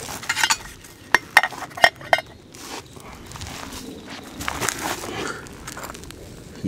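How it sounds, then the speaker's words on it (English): Salmon warming in a small pan on a camp stove, a soft sizzle and stirring beneath a few sharp clinks of utensils, close by with no one talking. "Heating up a little salmon."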